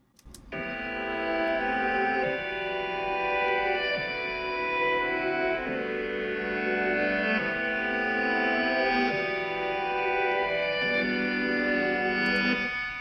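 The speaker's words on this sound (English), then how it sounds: "One track is this reverse piano here." Reversed piano chords in a hip-hop beat, each swelling in rather than striking, shifting from chord to chord at a steady pace across a long passage, moderately loud and alone with no voices.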